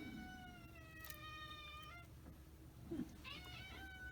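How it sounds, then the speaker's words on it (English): A pet cat meows in a tiny room, two drawn-out, rising-and-falling meows and a shorter third cry, fairly close, with a faint low hum under them and no talking. "that's my cat. She's just being freaky."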